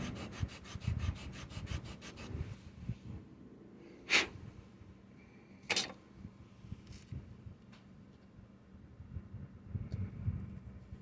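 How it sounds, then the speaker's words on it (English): A block sander works a joint on a Rhedosaurus model kit with quiet, rapid rubbing strokes at first, then softer scraping broken by two brief louder knocks. "Let me see if I can sand that out with a block sander."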